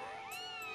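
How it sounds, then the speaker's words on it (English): A cat meows once in the video game The Legend of Zelda: Skyward Sword, a short, bright, tonal cry that rises and bends back down, fairly quiet and heard alone. "Oh, it's the cat."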